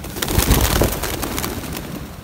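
Pigeon cooing in a rescue setting, low soft coos close by, repeating over a couple of seconds amid some background rustle.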